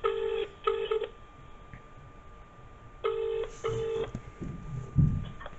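A telephone ringback tone during an outgoing phone call, heard as two double-pulse rings about three seconds apart, fairly quiet over light background noise.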